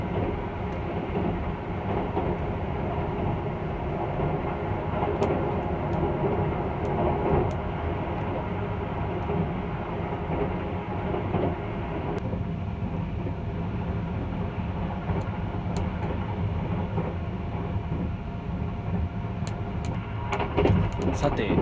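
Steady low rumble and rattle of the Sunrise Seto/Izumo sleeper express passing Okitsu Station in Japan, heard from inside the carriage, with a continuous hum and occasional faint clicks.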